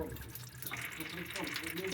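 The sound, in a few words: water draining from Mitsubishi Grandis air conditioner drain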